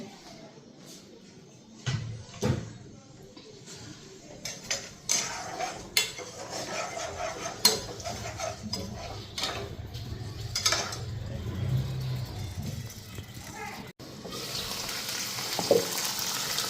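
Spices fry quietly in a pan while metal utensils clink and scrape against it in scattered sharp knocks, over a soft, low background sizzle.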